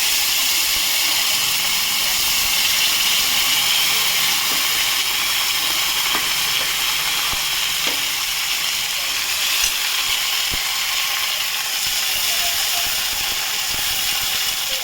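Ginger paste fries in hot oil with nigella seeds for a bhetki fish mustard-paste curry: a steady, loud, even sizzle with a few faint clicks and no voices.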